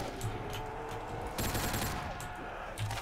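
M4A1 rifle firing in Call of Duty Zombies on the Rust map: a continuous rattle of loud automatic shots, steady and dense throughout with a heavier burst near the middle.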